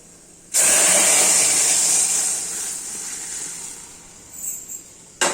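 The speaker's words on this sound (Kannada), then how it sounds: "ಈಗ ಫ್ರೈ ಆಗಿದೆ. ನಾನು ಇದಕ್ಕೆ ಸಾಂಬಾರನ್ನ ಹಾಕಿಬಿಡ್ತೀನಿ." Sambar poured into a hot pan of fried drumstick pods bursts into a loud, steady hissing sizzle that gradually settles into quieter bubbling, with a brief clatter at the end.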